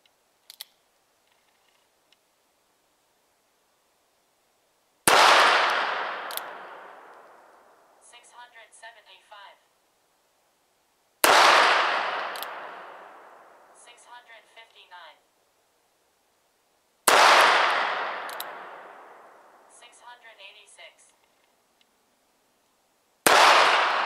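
Four loud, sharp shots ring out at even intervals of roughly six seconds from a Pietta New Model Army revolver with an 8-inch barrel, fired over a chronograph. Each crack decays into a brief echo, and faint clicks follow each shot.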